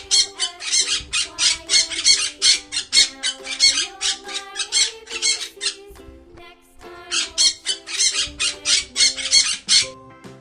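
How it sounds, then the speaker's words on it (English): Parrot squawking in a rapid series of loud, harsh, rhythmic calls, repeated in two bursts with a short pause between, close and clear with nothing else present. "P. P for parrot."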